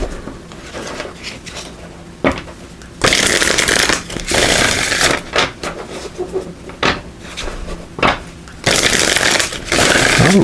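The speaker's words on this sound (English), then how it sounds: "Let's give these a good shuffle." A deck of oracle cards is shuffled by hand in bursts of crisp riffling and slapping, loud and close, with short pauses between each shuffle.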